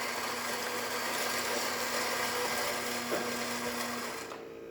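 A Gaggia espresso machine's built-in coffee grinder grinds a single espresso shot with a steady, close whirring drone that runs evenly for several seconds, then cuts off abruptly.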